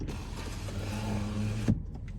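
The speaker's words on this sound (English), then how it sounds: "one other option here is you have your automatic back window here" The automatic power rear window of a 2018 Ford F-350 pickup sliding, a close steady electric motor whine lasting about a second and a half before stopping with a soft clunk.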